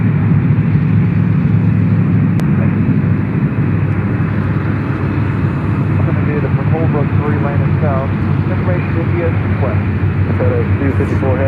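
A Southwest Airlines Boeing 737 at Memphis airport makes a loud, continuous roar of jet engines with a broad rumbling hiss that stays steady throughout, while people talk faintly underneath.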